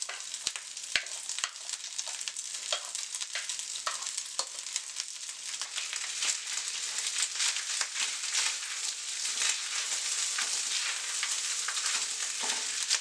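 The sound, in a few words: rice frying with beef in a pan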